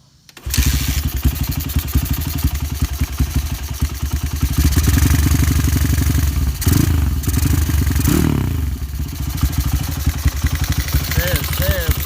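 A Honda Tiger motorcycle with a leaking exhaust starts up and settles into a loud, close, steady throbbing idle with a rattling edge, while voices briefly talk over it.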